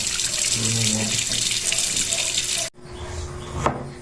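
Tap water runs steadily as pork meat is rinsed, a continuous splashing stream that cuts off abruptly partway through, leaving faint handling noises and a brief knock.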